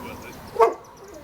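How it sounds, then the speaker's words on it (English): A dog gives a single short bark at the arrival of a mail carrier, heard near an outdoor car-cleaning job, with quiet background before and after. "Alright, dog's going crazy."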